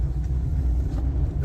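Suzuki Cultus VXL hatchback driving along a road at speed, a steady low engine and road rumble with constant tyre noise, close and continuous with no talking.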